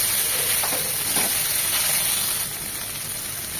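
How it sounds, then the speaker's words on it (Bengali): Chili paste and spices sizzle in hot oil for a fish-head stew with Malabar spinach, a steady close hiss that runs through the clip and eases slightly near the end. "এটাকে 10-20 সেকেন্ড ভেজে নেব তেলের সাথে"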